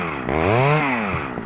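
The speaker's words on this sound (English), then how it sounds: "and that is with the Chewbacca chainsaw." A chainsaw sound effect revs in one rising, then falling buzz, loud and close with nothing else over it, opening a sports talk show.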